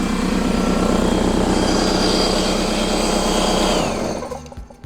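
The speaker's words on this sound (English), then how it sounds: "Let me go take a look at this air compressor and see where I'm at as far as air pressure." An air compressor powered from a Ford F150 PowerBoost's onboard inverter runs loud and close, a steady pulsing mechanical drone with a rising whine on top that winds down and stops near the end.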